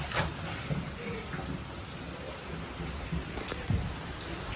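Steady rain pours outdoors where people are dancing, a constant hiss of drops on surfaces with faint thunder-like rumbles and a few soft voices in the background.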